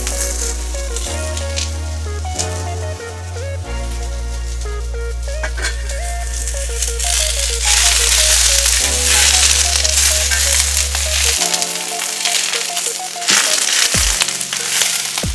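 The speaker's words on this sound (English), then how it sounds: "So now we're going to go ahead and keep the seasoning going with some onions." Onions sizzle on a Blackstone griddle top with a bright, steady crackle and hiss under loud background music.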